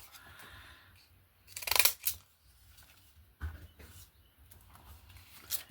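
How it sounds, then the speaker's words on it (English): Scissors snip through paper for a grungy junk journal, a few sharp crisp cuts and rustles spaced irregularly against a quiet background, with one louder double snip near the start. "these scissors are not great, so."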